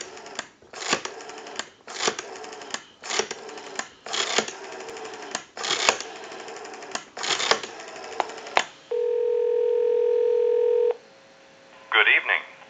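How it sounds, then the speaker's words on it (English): A Western Electric 5302 rotary desk telephone, under repair, gives a run of rhythmic clicking dial bursts, then a steady two-second dial tone, followed by a short final burst. "Go ahead and turn our amplifier on, give you some dial tone."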